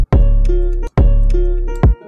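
A bass line programmed in FL Studio 20 plays two long sustained deep bass notes, each starting on a hard kick-like thump, then a shorter third hit, loud and alone.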